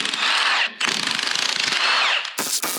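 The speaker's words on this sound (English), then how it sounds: "We'll remove our head bolts." A rattling power tool loosens the cylinder head bolts on a Ford 351W 5.8L V8 engine, sounding as loud, close hammering bursts broken by brief pauses.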